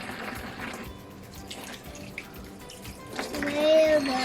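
Tap water running onto a sponge while a young child washes dishes, a soft, faint trickle and splash that grows louder toward the end.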